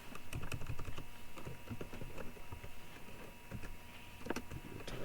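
Quick, steady typing on a computer keyboard in Microsoft Word, a dense patter of close key clicks with a few louder keystrokes and no talking.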